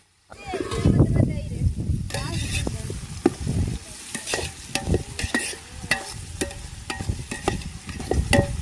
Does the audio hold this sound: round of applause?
no